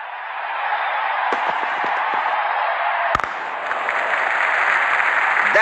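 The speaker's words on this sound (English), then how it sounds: "Crowd is going crazy." A cricket crowd at a stadium cheers and applauds in a dense, continuous roar, with a few sharp claps and a loud bang partway through, no clear speech over it.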